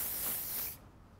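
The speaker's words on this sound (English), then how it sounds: "we're going to spray that" A short burst of hairspray hissing close by for under a second as it is sprayed onto a hair bun, then cutting off abruptly into near silence.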